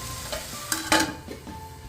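Dal sizzles briefly in a hot pan for peanut chutney, with a couple of close scraping stirs and a soft clink of a utensil over a low background hiss.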